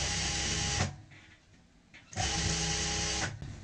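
A sewing machine stitches palazzo fabric in two loud whirring bursts, separated by a pause of just over a second with soft handling noise.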